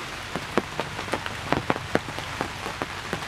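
Rain falls during a hunting trip, its drops tapping irregularly on a nearby surface with a steady wet hiss behind them and no voices.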